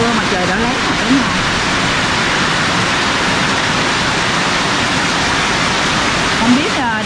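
Heavy rain pouring steadily during typhoon number 5, a dense broadband roar that stays constant throughout, with faint voices murmuring beneath it.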